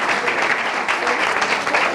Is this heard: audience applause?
yes